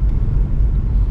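A 2016 Subaru WRX fitted with a Nameless Performance midpipe, heard from inside the cabin under light throttle, gives a steady, loud, deep engine rumble with no distinct rev peaks across the short stretch.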